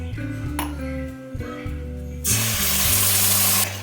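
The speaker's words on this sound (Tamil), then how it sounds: "மீதி இருக்கிற நெய்யில் நான் வந்து ஒரு கப் அளவுக்கு சர்க்கரை சேர்த்துக்கிறேன் ஒயிட் சர்க்கரை சேர்த்துட்டு அதே கப்பால் நான் ஒரு ஹாஃப் கப் அளவுக்கு தண்ணி சேர்த்துக்கிறேன்" Half a cup of water hits white sugar in hot ghee left in the pan while making kesari, bursting into a loud, hissing sizzle that lasts over a second, following tonal background music.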